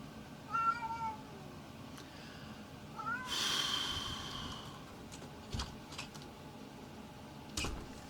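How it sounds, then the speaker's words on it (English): A house cat gives a couple of short meows close by in a quiet room, with a sharp exhaled snort-like sound and a few soft knocks in between. "My cat meows."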